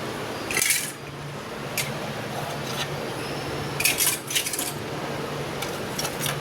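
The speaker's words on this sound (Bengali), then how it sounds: "সব থালাগুলো এক এক করে তুলে নেবো।" Metal plates are lifted one by one, each giving a bright clink or clatter against other plates, scattered irregularly over a low steady background hum with no talking.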